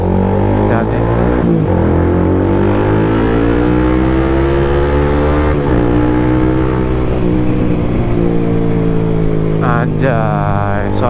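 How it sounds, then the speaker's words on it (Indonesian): A Toyota Veloz engine drones and revs steadily up and down on a night drive, loud and close, with the pitch climbing through gear changes and a voice briefly heard near the end. "suaranya enak banget Veloz hari ini."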